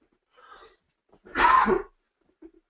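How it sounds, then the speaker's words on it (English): A single short, sharp cough or sneeze-like burst from a man sounds close and loud, with a faint breath before it and quiet after. "I'm sorry for this little cough I've got"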